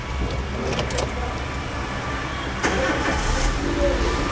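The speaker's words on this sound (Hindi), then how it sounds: "एक सेल्फ में कार शुरू हो चुकी है।" A Hyundai i20 car engine cranks and catches on the first try, turning over quickly into a running idle, with keys jangling at the ignition and a light mechanical clatter in a workshop setting.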